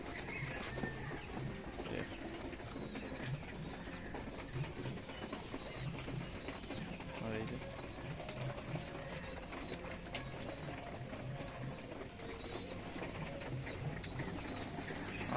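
Deshi giribaz pigeons shut inside a room give low, soft coos amid faint shuffling, a quiet, steady indoor murmur.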